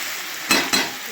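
Okra and potatoes sizzling in a covered pan, two quick stirring scrapes and clatters cutting through a steady close hiss.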